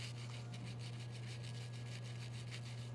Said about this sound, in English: So we want to just take this Brillo pad and go ahead and run over it